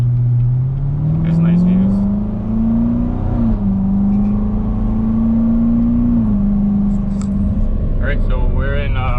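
A 2019 Corvette C7 Grand Sport with a Borla X-pipe and secondary cat delete drones steadily while driving, its exhaust tone rising and settling through gentle throttle changes, with people talking over it inside the cabin.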